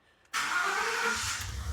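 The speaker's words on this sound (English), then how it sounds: "I'm going to start it up." A 2014 Ford F-150 5.0 L Coyote V8 with bank 1 misfires cranks and catches after a moment of quiet, then settles into a steady, rough idle nearby.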